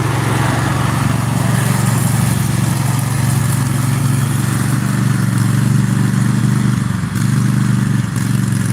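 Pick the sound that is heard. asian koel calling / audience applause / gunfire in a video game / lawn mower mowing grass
lawn mower mowing grass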